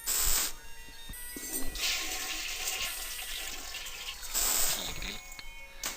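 A toilet flushes in the video game I Have No Mouth And I Must Scream, a loud rushing of water heard repeatedly, with surges at the start, middle and near the end, no talk.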